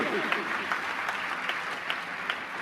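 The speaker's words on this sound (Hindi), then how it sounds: "बजाइए ताली अच्छे से।" An audience at a Jain religious discourse claps steadily, a thick continuous patter of many hands that carries through the whole stretch with some faint voices underneath.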